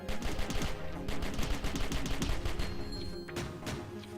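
A spike gun fires repeatedly in the video game Cally's Trials, a rapid rhythmic stream of punchy shots over game music, fairly quiet overall and without talk.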